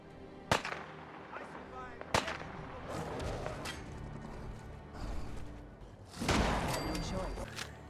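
Gunshots in a video game fight: two sharp, close cracks a second and a half apart, then rumbling action and a louder burst of noise near the end, with a voice talking throughout.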